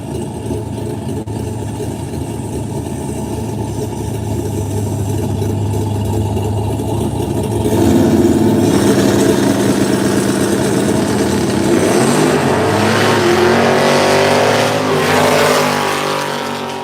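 A Ford and a Chevrolet no-prep drag race car idle with a loud, lumpy rumble, then rev and roar harder as the engines build. The sound is close and continuous, with a surge of engine noise toward the end and no talk.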